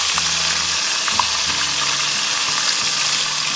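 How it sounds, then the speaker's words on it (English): Calamari squid frying in hot oil, a dense, even crackling sizzle close up and continuous, with a faint low hum running beneath it. "Start frying. So lay them down nice and easy."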